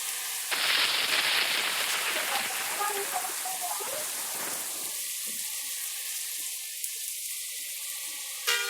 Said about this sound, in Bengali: অস্থির লেভেলের একটা ঝাঁকানাকা বৃষ্টি আসছে।